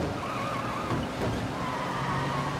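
Car driving and skidding in Mafia Definitive Edition, a faint engine drone with wavering tire squeal, no talk.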